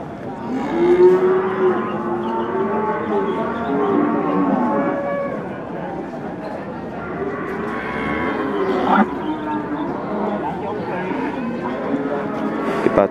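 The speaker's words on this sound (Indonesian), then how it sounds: "2 ekor sapi limusin." Two Limousin cattle moo repeatedly in long, low, drawn-out calls, fairly close, with some background noise between the lowing.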